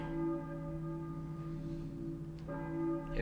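A church bell tolls inside the Silent Hill 4 video game, two resonant strikes with long, sustained humming overtones that ring steadily between them, loud and close with no talk over it.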